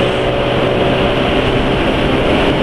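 A motorcycle engine running on Idemitsu 10W-40 JASO MB oil mixed with corn oil makes a loud, steady, close-up mechanical drone with a constant buzzing hum that holds level throughout, with no clear rise or fall in pitch.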